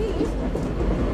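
A narrow-gauge Trenino Verde tourist train in Sardinia rumbles along the tracks nearby, a steady low clatter and roll throughout.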